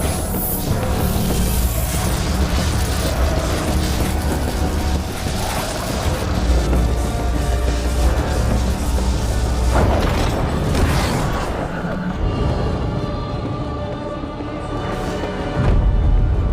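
Magic explosions in a Witcher story scene: deep booming blasts and rumbling crashes under a loud, dense soundtrack, with a sharp swell near the middle and another burst at the end.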